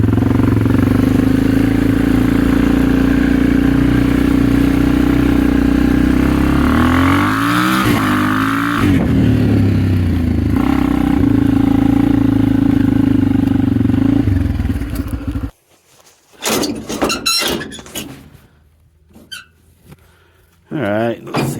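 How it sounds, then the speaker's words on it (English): A Honda XR dirt bike engine runs steadily at close range for about fifteen seconds, loud and droning with a brief rise in revs. It then cuts off, and scattered clatter and movement follow. "I gotta ride the XR up there because I don't want to walk back and forth all day today."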